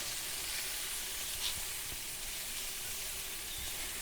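Spices frying in a hot pan for samosa potato filling, a steady soft sizzle that runs alone without a break at low level.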